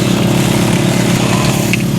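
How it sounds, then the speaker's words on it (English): An electric chainsaw cuts wood at close range, buzzing steadily with a loud, continuous motor whine and no pauses. "This is where that good electric chainsaw is gonna come in handy."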